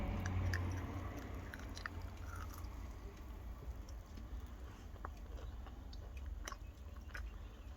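Someone chewing crunchy food while tasting it outdoors, the steady soft crunching and mouth noises continuing close to the mic over a low background hum for several seconds, with no talking.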